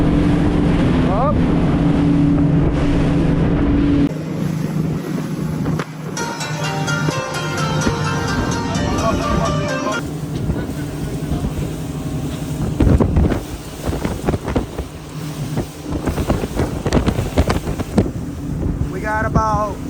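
Powerboat engine droning while crossing big rolling waves on the open sea between Florida and Bimini, with heavy wind buffeting the microphone, water slapping and surging, and someone talking over it.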